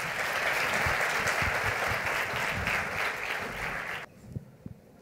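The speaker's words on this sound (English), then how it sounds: "Another round of applause." Applause from an audience at a medical conference after a debate on coronary CTA in the emergency department: dense, steady clapping for about four seconds that then stops abruptly, leaving a few scattered claps.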